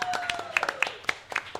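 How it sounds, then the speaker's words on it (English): Small audience applauding during a live tabletop role-playing game show, scattered sparse claps under ongoing talking and a sustained tone. "Round of applause, please."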